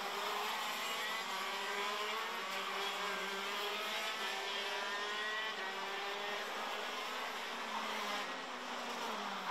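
KZ2 racing karts from CRG and Sodi driving on a track at Berghem, a steady high-pitched engine whine with shifting tones as the karts run at speed, loud and close throughout.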